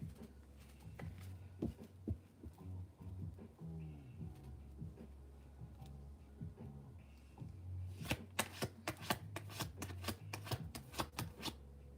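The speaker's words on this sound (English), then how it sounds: "I was shuffling backwards" Tarot cards being shuffled by hand: soft rustling and shuffling through the middle, then a quick burst of crisp riffling clicks near the end, close and fairly quiet.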